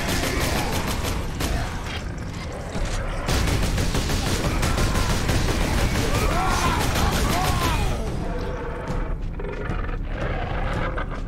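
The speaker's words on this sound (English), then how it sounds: "We gonna shoot up some shit with our bolter gun." A bolter gun fires in the video game Space Marine amid loud, continuous battle noise, with dense overlapping bursts of shots and roaring chaos that briefly eases toward the end.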